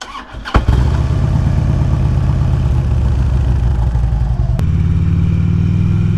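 A Harley-Davidson Road King Classic motorcycle cranks and fires up on a late-winter day, then settles into a loud, close, steady, throbbing idle with no talk over it.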